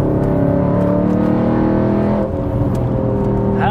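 An Audi B7 RS4's engine accelerates with a loud, sustained rising drone, then shifts tone near the end as the pace changes, heard from inside the car with no talking.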